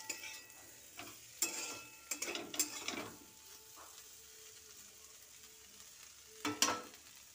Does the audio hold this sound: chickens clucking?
no